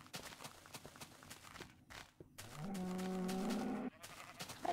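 A Minecraft cow moos once in a drawn-out, low, moderately loud call, preceded by soft blocky footsteps and game ambience, with no talking.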